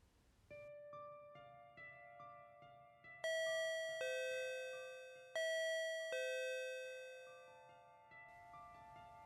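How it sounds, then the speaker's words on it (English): A doorbell chimes several times, each bright ding ringing out and fading slowly, heard clearly with no voices. "The doorbell rang."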